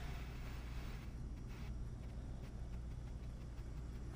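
A starship's engine in the space game X4 Foundations gives a steady, low, even drone that hums without change for the whole stretch.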